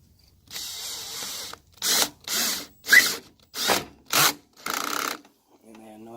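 A power drill in drill mode drives screws into wood on a landing pad and step build, as a series of short, loud whirring bursts separated by brief pauses, close by, ending with a faint tonal sound.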